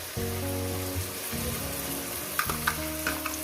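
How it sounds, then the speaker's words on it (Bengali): Onion and spice paste frying in a pan for mutton curry, a steady soft sizzle with a few light scrapes and clinks of stirring against an underlying hum. "পেঁয়াজটাকে আমি চার মিনিট ধরে ভেজে নিয়েছি এরপর দিয়ে দেবো মশলাটা"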